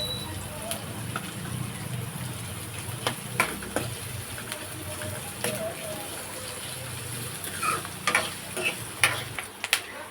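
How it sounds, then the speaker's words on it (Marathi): Onion sautéed in a pan until reddish, under repeated stirring: a low sizzle broken by irregular clicks and scrapes of a spoon against the pan, heard close while a person talks throughout. "व्यवस्थित आपल्याला लालसर रंग येईपर्यंत परतवून घ्यायचं आहे"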